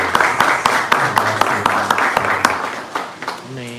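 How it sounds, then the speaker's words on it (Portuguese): A church congregation claps during a worship service, a dense run of hand claps with sharp individual strikes, accompanied by a voice speaking and exclamations, ending as a voice rises toward the close. "Você pode aplaudir o Senhor?"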